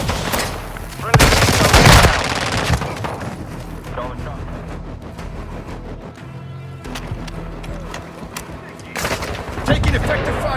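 Bursts of automatic gunfire and booming shots from a military video game firefight, loud near volleys at the start and end with sustained crackling fire between, while game radio voices call out over the combat.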